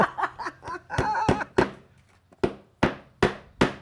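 A series of sharp hammer taps, about six evenly spaced blows driving nails, after a brief stretch of softer knocking and shuffling up close.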